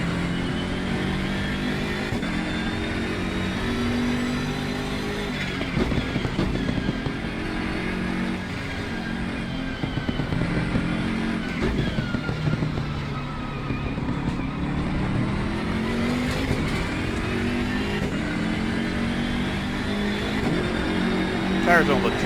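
A BMW M6 GT3 race car engine in Assetto Corsa Competizione at Paul Ricard drones steadily for the whole stretch, rising and falling through gear changes at sustained high revs, with talking over it at times.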